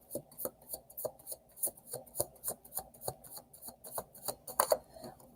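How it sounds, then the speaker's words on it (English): Tarot cards being shuffled give a quick regular series of soft papery riffles and slaps, about three per second, close by and quiet, with no speech. "So I'm going to shuffle again."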